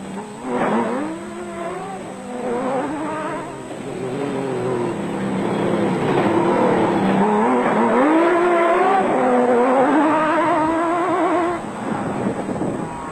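A Nissan Hardbody off-road race truck at a 2003 South African dealer off-road race, its engine revving and droning through rising and falling gear changes, fairly close and loud, passing steadily without talk.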